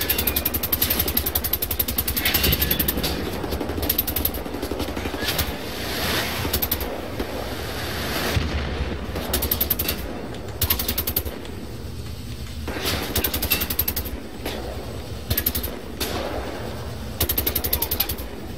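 Dense bursts of gunfire and rumbling explosions from the shooter game Wolfenstein: The New Order come in rapid volleys, loud and close, separated by a few short lulls over a continuous roaring backdrop.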